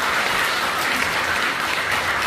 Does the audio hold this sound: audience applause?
yes